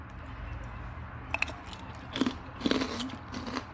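Crispy Thai pork rinds are bitten and chewed close up, with a few faint crunches early on and louder crackling crunches toward the end over a quiet background hum.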